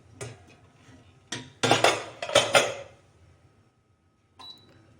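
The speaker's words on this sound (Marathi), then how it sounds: "आता आपण कुकर खोलून घेतो" A pressure cooker is opened among pots and utensils: sparse metallic clanks and clinks, a cluster of louder rattling knocks in the middle, then quiet before one last short clatter.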